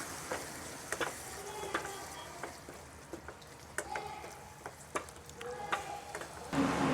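Kadai paneer masala being mixed in a pan: a faint sizzle beneath repeated light scrapes and taps of a spoon against the metal, irregular and close.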